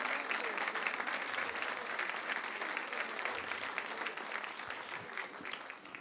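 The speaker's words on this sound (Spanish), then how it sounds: "Denle un gran aplauso al Señor." A church congregation applauds steadily and loudly throughout, dense clapping from many hands filling the room, easing off slightly at the very end.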